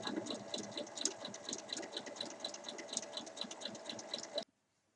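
A sewing machine runs steadily for about four and a half seconds, stitching a tiny 5 mm seam to join fabric strips for basket handles. The rapid, even needle chatter is close and continuous, then stops abruptly near the end.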